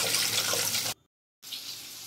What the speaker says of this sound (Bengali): মাছ পরিষ্কার করে নিয়ে ধুয়ে নিচ্ছি।